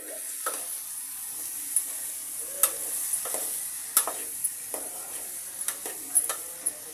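Spoon scraping and stirring capsicum curry with broad beans in sizzling oil in a pan, irregular clinks and scrapes over a constant soft frying hiss, close and alone.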